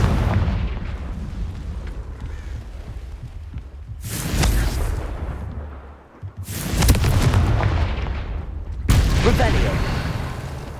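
Three loud spell blasts from Confringo, the fiery blasting charm in the Hogwarts Legacy video game, burst out about two seconds apart over a constant rumbling game soundscape. Each bang is broadband and fades quickly.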